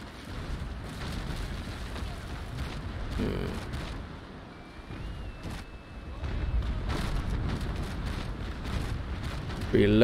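Ship cannons loaded with grape shot in the naval battle game Naval Action fire in deep, rumbling booms that roll across the battle, with a louder blast at the very end.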